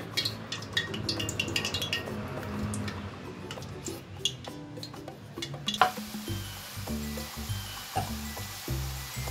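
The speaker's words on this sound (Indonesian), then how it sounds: "minyaknya sudah panas, kita langsung goreng aja steknya ya" Pumpkin sticks crackle and sizzle in hot oil, with soft bubbling, light taps and clinks of utensils against the pan.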